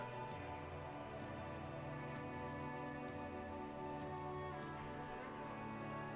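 Steady, even rain patters across surfaces in the Disco Elysium game world, a soft continuous wash with no other sounds, fairly faint and unbroken throughout.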